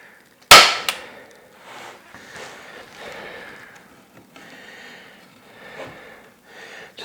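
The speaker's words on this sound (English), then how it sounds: "So I'll go ahead and staple along this side." A staple gun fires flywire onto a transom insert in an 1880 house, one loud sharp snap near the start followed by a lighter click, then quieter handling and rustling of the mesh.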